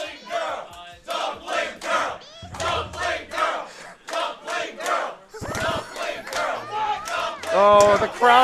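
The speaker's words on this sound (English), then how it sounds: "Oh, the crowd is going wild!" Crowd at a fighting game tournament cheering and shouting wildly in repeated loud surges, with excited yelling voices rising and falling throughout.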